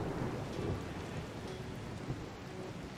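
Rain and a rumbling thunderstorm in the video game Rimworld, a steady dense wash of rainfall with low thunder rolling underneath, no voices.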